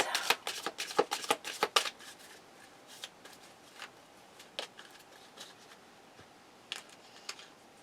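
Crystal oracle cards are shuffled by hand in a rapid burst of crisp riffling flicks, then slow to scattered softer taps and slides, close and fairly quiet with no talking.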